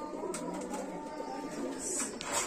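Pigeons kept in a household loft in Muradnagar, Cumilla, breeding with eggs and chicks, give low burbling coos amid a continuous busy background of flock noise, fairly faint and steady.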